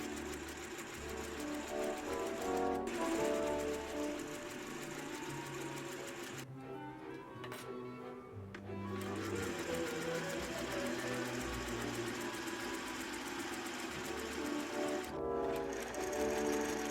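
A sewing machine runs fast and continuously while stitching a Little Red Riding Hood cape, with a rapid mechanical whir and needle clatter that pauses briefly twice before resuming at speed.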